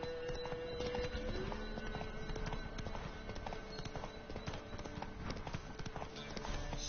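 A horse trots in the video game The Witcher 3: Wild Hunt, its hooves clip-clopping in a steady, close, continuous rhythm at a fairly even loudness throughout.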